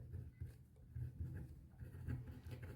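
Pen strokes scratch across paper during a maths lesson, soft rhythmic scribbling in short bursts, faint and close with no voices over it.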